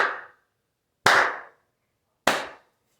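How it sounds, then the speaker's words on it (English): Three loud, sharp hand claps ring out alone, evenly spaced about a second apart, each with a brief reverberant tail in a quiet room. "Why am I clapping, black man?"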